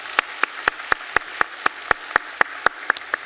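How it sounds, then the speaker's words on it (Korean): Church congregation clapping to welcome new member families during a Sunday worship service, heard as crisp, evenly spaced claps in a steady unison rhythm, about thirteen in a row, with no talking. "우리 세 가정 박수로 환영하겠습니다"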